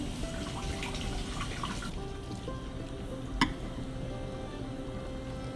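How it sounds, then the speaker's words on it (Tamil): Betel leaves being rinsed under running water in a kitchen sink, a steady trickle and splash with occasional drips and one sharp clink, close and moderately quiet, no talking. "வெத்தலையை வந்து நல்லா கழுவிக்கோங்க."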